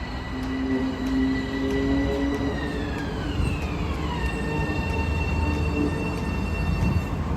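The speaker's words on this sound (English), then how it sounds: "that's our train right there coming in like 1 minute" A train pulling into a station, a steady rumble with long tonal squeals from the wheels and brakes that slide downward in pitch as it slows, close and continuous with no talk.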